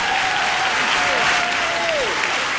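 An audience applauds steadily, a dense wash of clapping that stays even throughout, with a faint tone gliding underneath.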